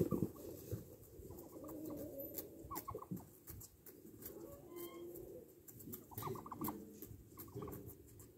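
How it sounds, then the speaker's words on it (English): Pigeons or doves coo in soft, repeated throaty phrases close by, overlapping one another in an uneven rhythm over faint background noise and occasional rustling, fairly quiet overall. "these birds"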